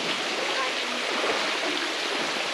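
A small waterfall splashes inside the Tunnel Creek gorge tunnel, a steady, close rushing and trickling of water with no voices.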